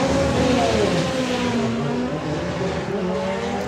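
A drag racing car charges down the strip at a doorslammer event, its engine a loud, sustained roar with shifting pitch, close and alone.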